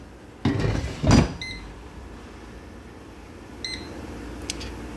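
An air fryer being reset to 390 degrees: two heavy thumps of the basket going back in, then a few short, clear electronic beeps spaced apart over a quiet hum.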